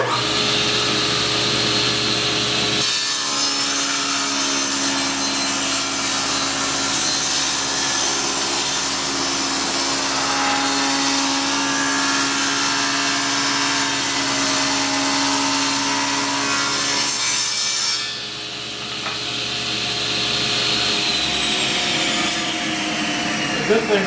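A hand saw cuts wood into scale lumber with a steady, continuous sawing noise for about fifteen seconds at close range, then stops abruptly, leaving a quieter background hum.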